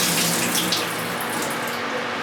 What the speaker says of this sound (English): After I've left my film sit in the water for about 5 to 10 minutes, I empty the water out.